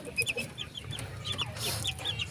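Three-week-old native chickens on a poultry farm cluck and peep close by, with repeated short calls overlapping in a busy, irregular rhythm.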